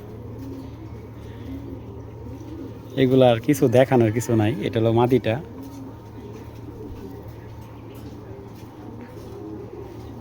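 Foreign racer pigeons coo softly and steadily in the background of a loft, with a low continuous murmur running throughout while someone talks briefly in the middle.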